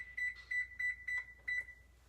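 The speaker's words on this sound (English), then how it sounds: "I am going to set my timer for about 30 minutes" A kitchen timer being set for a loaf of peasant bread baked in a Pyrex dish: five short, bright electronic beeps at an even pace, close and clear over a quiet room.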